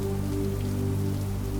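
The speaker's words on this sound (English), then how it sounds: "The rain's steady rhythm has deepened into something fuller now, a soft drumming against the awning" Steady rain drums on an awning, a dense, even patter that holds constant throughout with no voices.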